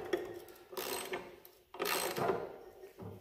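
Tightening an adjustment on an abrasive wheel chopsaw set for 45-degree cuts: a few short bursts of scraping, ratcheting mechanical clicks and metal handling up close, with brief quiet gaps between them.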